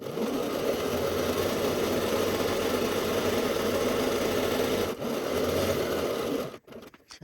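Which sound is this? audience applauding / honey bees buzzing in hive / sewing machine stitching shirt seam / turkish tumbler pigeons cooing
sewing machine stitching shirt seam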